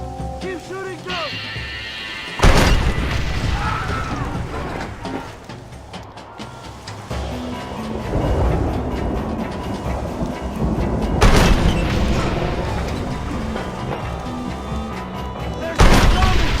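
Red Dead Redemption game combat, with heavy booming gunfire and explosions repeating over a dense, rumbling battle din, several loud blasts standing out, and shouted voices mixed in.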